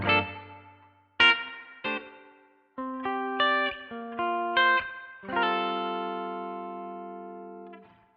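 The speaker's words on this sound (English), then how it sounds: "Spring reverb" Guitar notes and chords ring out one after another through a Line 6 Pod Express spring reverb, each drenched in a springy, splashy reverb that trails off slowly; no voices.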